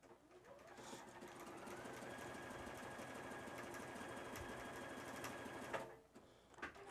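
A Juki HZL-F600 sewing machine sews a stretch stitch, running in a steady, fast mechanical whir for several seconds before stopping abruptly, with a faint clack after.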